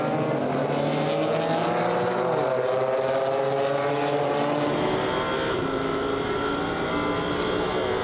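Engine drone of GT4 race cars at the Nurburgring during a European Series race, a steady layered roar with rising and falling harmonic tones from several cars, continuous and fairly distant, with no talk.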